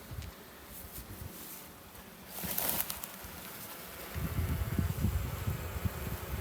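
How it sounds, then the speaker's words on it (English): Welsh black honey bees buzz at an opened hive, a low swarming drone that swells louder toward the end, along with occasional rustling and handling noises nearby. "Welsh black bees this time"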